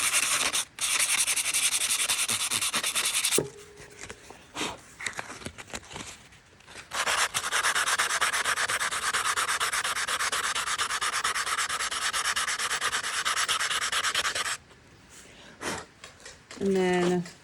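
Hand sanding a carved stone with 60-grit sandpaper, heard as long, loud rasping strokes broken by short pauses, close up, with a brief voice in the gaps.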